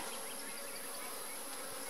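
Honey bees buzzing at an open hive during an inspection, a dense continuous drone close by with no talk.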